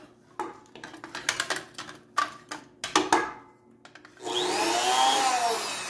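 A heavy-duty sewing machine gives short rapid mechanical bursts and clatter, then settles into a steady loud whirring run that continues to the end.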